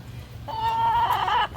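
A chicken caller toy imitates a hen's cluck, giving a short, nasal, buzzy squawk that rises and breaks off, close and fairly loud over a faint background.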